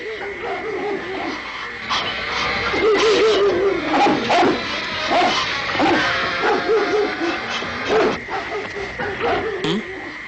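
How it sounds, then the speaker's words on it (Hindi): Several dogs bark and yelp in a jungle setting, a busy overlapping chorus of barks and whimpers close by, with some voices mixed in. "ये कुत्ते भौंक क्यों रहे हैं इतना?"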